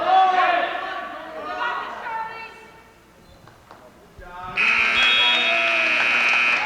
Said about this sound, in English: There's the buzzer as Charlie Sheeran will win in a 6-2 decisio